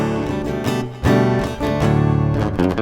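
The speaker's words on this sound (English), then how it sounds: "If I turn this down, it's just the straight piezo pickup." Fender Acoustasonic Telecaster played through its undersaddle piezo pickup alone, giving a bright, crisp acoustic guitar tone: several strummed and picked chords with sharp attacks, close and clear, with no talking.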